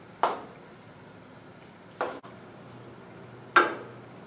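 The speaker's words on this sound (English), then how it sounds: "And then we're just going to mix this up." A burrito bowl mixture is stirred in a pan with three distinct, close scraping strokes spaced a couple of seconds apart over a faint background, with no talking.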